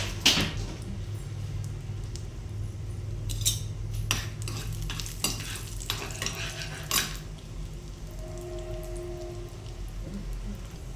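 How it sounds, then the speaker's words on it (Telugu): Cashews and curry leaves fry in hot ghee as a tempering for chicken fry, a steady rain-like crackling sizzle with occasional sharp clinks of a spoon against the pan, close and with no voices. "ఇప్పుడైతే కొన్ని జీడిపప్పు ఫ్రై చేసేద్దాం."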